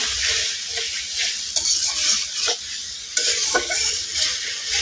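Spice paste with chili powder and a splash of water sizzles in a pan for a small-fish chorchori, with close, steady frying hiss broken by repeated scraping stir strokes and no talking.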